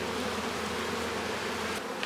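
Honey bees in a nuc hive give a dense, continuous close-up buzz that holds steady and loud throughout.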